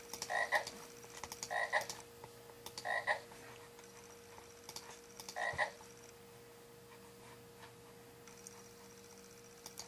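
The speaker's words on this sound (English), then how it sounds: "And you'll hear the croak" Cartoonish frog croaks from the video game frogFrenzy, several short bursts repeating at uneven intervals over a steady electronic hum, with no talking.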